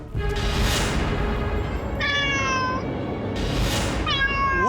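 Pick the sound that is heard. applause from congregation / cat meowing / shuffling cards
cat meowing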